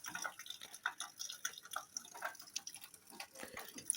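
Water drips through a leaking roof in irregular taps and small splashes, fairly close and quiet, with no voices.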